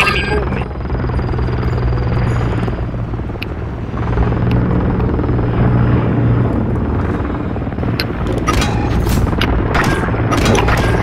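A helicopter's steady rotor drone fills a Call of Duty game scene, loud and continuous, with bursts of gunfire-like crackle and a voice speaking briefly over it.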